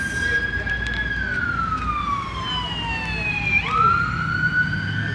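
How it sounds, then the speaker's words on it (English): Ambulance siren wailing outside in the rain, its long rising and falling tone passing at a moderate distance over steady rain hiss, with voices faintly underneath. "Yeah, that's another ambulance."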